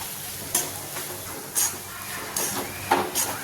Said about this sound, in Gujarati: એકદમ સારી રીતે બધું બરાબર મિક્સ કરી દઈશું.